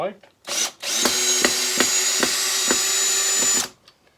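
A power drill removing a screw from a guitar build whirs steadily for a few seconds with rhythmic clicking pulses, then stops; brief sounds before it starts.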